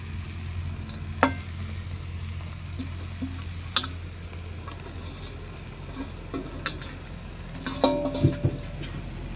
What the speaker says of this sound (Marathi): चला आता आपण भाजी टाकून घेऊ।